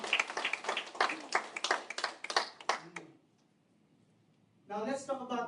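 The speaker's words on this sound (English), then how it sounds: "I think we need to clap our hands" Hands clap in a quick, uneven burst for about three seconds at an investment event in a Dubai hotel, loud and close, before a pause and a voice starting to talk.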